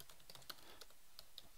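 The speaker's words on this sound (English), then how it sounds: "again, my typing's abysmal today" Keys on a computer keyboard are tapped in a quick, uneven run of soft clicks, close up and quiet, with no voices.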